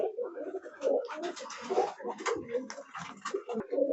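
Pigeons coo and rustle close by in a high-flying pigeon loft, with people talking over the birds throughout.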